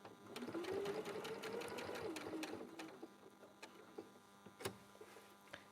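A sewing machine stitching a placket gives a soft, rapid rhythmic whir and tick, close and fairly quiet, with a bird-like coo early on and occasional sharper clicks.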